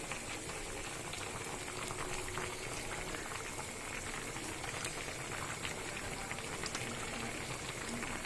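Fish curry of boal fish simmering in a pan as its water cooks down, a steady close bubbling and spitting hiss that runs evenly throughout with no voices.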